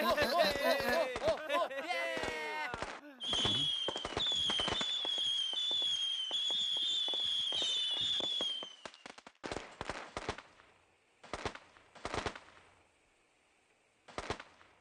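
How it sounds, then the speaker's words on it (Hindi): Firecrackers burst in a film scene: a long, dense crackling barrage is followed by separate sharp pops spaced out toward the end, with voices or music briefly heard at the start. "जिस तरह पटाखे फूट के इधर उधर बिखर रहे हैं"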